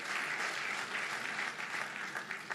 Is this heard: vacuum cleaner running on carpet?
no